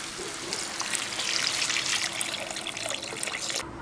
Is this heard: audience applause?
no